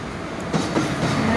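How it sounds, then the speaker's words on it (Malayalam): A passenger train rolls into a station on the way to Alappuzha, its steady rumble and wheel noise loud and close and building over the short stretch, with a brief squeal partway through. "അങ്ങനെ ട്രെയിൻ വരുന്നുണ്ട്."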